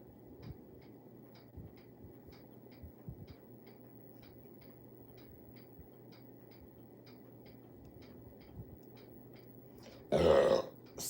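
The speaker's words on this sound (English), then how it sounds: "That was a big burp." A big burp erupts near the end as one loud, short, low belch over a faint background hum with steady soft ticking.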